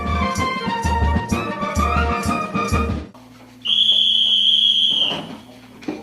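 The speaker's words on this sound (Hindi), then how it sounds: "ठीक 10 बजे की सीटी ऐलान करती है सोने के वक्त का।" During paramilitary training, a single long, shrill whistle blast sounds the 10 o'clock bedtime. It holds loud and steady for about a second and a half after a stretch of rhythmic, music-like sound and a brief lull.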